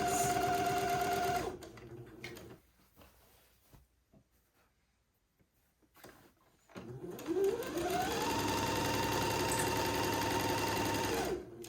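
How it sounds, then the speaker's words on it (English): A sewing machine runs a second pass of a French seam, humming steadily, then stops for a few quiet seconds before starting up again and whirring on at an even pace. "I'm sewing at a 1/4 inch seam allowance to do my second pass of the French seam."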